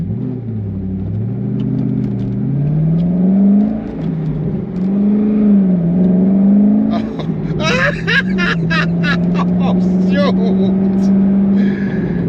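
A 2006 Chevrolet Corvette C6 engine rumbles loudly from inside the car, its pitch rising and falling as it revs and accelerates, with a man exclaiming over it.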